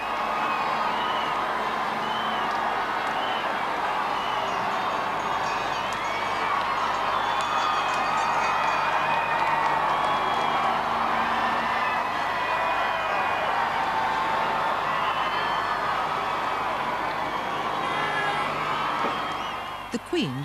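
A large crowd at a royal wedding in London roars continuously, a dense wash of cheering and whoops that holds steady from start to finish before dropping away abruptly at the very end.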